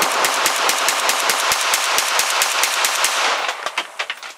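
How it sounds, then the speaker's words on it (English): A Polish PM-63 submachine gun empties a full magazine of Silver Bear ammunition in one loud, rapid, continuous burst of close gunfire, ending with a few ringing echoes. "PM-63 full mag Silver Bear."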